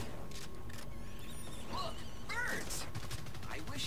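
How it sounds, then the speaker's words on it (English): Distant gunfire pops faintly in the Evolve video game, a few muffled shots and short bursts under a steady ambient bed of game noise and scattered creature-like chirps. "just firing in the distance"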